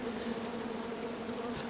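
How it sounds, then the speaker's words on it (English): Angry bees buzz steadily in the King's Quest video game, a continuous droning hum that holds at an even loudness from start to finish with no talking. "Come at me, bees!"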